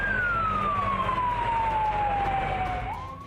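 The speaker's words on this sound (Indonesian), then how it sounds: "Sebanyak 7 unit mobil pemadam dikerahkan untuk memadamkan api." A fire engine's wailing siren slowly falls in pitch, loud and continuous over steady traffic rumble, as trucks respond to a warehouse fire in Kulon Jebres, Solo, Central Java.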